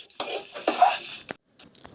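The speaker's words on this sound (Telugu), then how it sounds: "మనం గంటితో కలిపెడతానే ఉండాలి" Ladle scraping and knocking against a pan while milk sweet is stirred, a few quick clinking strokes, close and clear, with short pauses between them.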